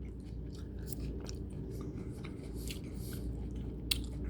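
Soft, wet chewing of roasted peppers from a salad, close to the mouth and quiet, with squishy bites and a faint click near the end, no talking.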